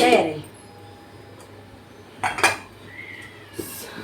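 A metal lid is set on a pot of sheera in a home kitchen, giving a couple of short clinks and clatters amid quiet room noise, with a voice heard faintly.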